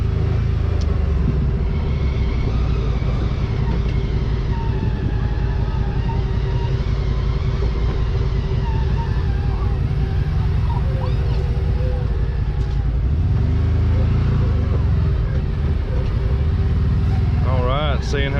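A 2022 CFMOTO UFORCE 1000 XL side-by-side drives over rough terrain at dusk, its engine giving a steady low rumble throughout with a brief rising surge near the end, while a person talks over it.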